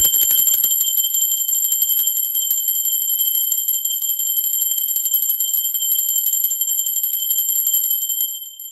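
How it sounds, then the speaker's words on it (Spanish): A high-pitched bell rings out once and sustains a bright, steady tone that slowly fades, alone over near silence for several seconds. "en el momento del sonido de la campana, que es una frecuencia muy alta"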